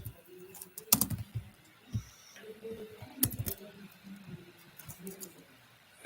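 Scattered keystrokes tap on a computer keyboard in short irregular bursts with a few louder clacks, alongside quiet background sounds.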